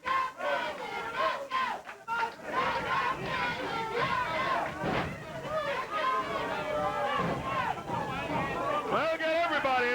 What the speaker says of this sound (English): Yeah, they're still cheering over there.